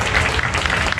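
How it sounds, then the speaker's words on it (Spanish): An audience claps together in a short, dense burst of applause inside a crowded room at Xcaret park in the Riviera Maya. "Que suene bonito ese aplauso."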